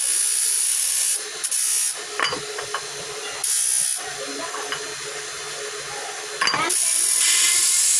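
A Swift Dzire steering rack is buffed on a machine, giving loud, high-pitched whirring bursts that start and stop between rattling mechanical clatter and quieter gaps.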